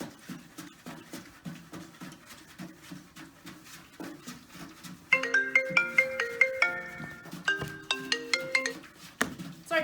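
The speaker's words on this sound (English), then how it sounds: "Sorry guys, that's my phone." A mobile phone ringtone plays a bright, repeating melody partway through, loud and close. It sits over a background of softer rhythmic tapping during a boiling-point demonstration.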